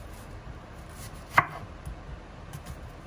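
A knife comes down on a cutting board as squash and onion are chopped in a home kitchen. One sharp, close chop stands out, followed by a few softer taps over a quiet background.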